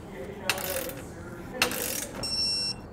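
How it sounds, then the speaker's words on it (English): Torque wrench tightening nuts on the bracket of a Westin molded running board on a 2018 Chevrolet, giving two sharp ratcheting clicks with a short mechanical whir between them, close and fairly loud with no talking. "we'll come back with our torque wrench and torque each of these down to the specifications in your instructions"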